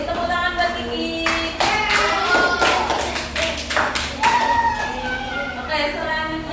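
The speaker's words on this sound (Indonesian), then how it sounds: "Tepuk tangan buat Kiki." Children clapping in a classroom, rhythmic hand claps in short bursts mixed with voices and chatter.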